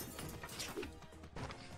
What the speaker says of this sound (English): The sounds of stuff smashing is just great.